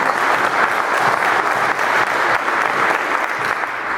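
At an annual conference of rank-and-file educators, an audience applauds in a dense, loud, continuous roar of clapping that holds steady throughout.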